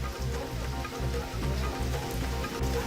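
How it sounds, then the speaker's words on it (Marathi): Heavy rain pours steadily over Solapur city, a dense, continuous hiss and patter of drops without any voices. "शहराच्या विविध भागात तासभर मुसळधार पाऊस कोसळलाय"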